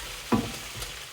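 Garlic and onion frying in a pan for tinola, with a single spoon scrape and a soft stir over a low, faint sizzle.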